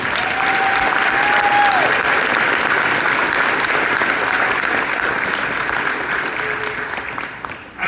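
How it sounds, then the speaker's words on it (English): Sustained applause from a graduation ceremony audience, a dense, even roar of many hands clapping that holds steady for several seconds before easing off slightly at the end. "join me in a round of applause, graduates, for all of the support that you received from everybody"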